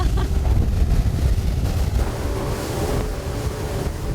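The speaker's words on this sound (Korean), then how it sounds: "우려했던 일이 점점 현실로 나타납니다. 빗방울이 떨어지기 시작하더니 설상가상 파도도 점점 거세지는 거 있죠?" Strong sea waves slap against a small boat off Pennyda island in Indonesia as rain begins, with steady rushing water and loud wind buffeting the microphone throughout.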